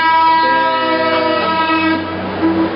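A train rumbles past close by, its horn sounding a steady chord of stacked tones through the whole stretch and swelling slightly near the end, loud and continuous with no talk over it.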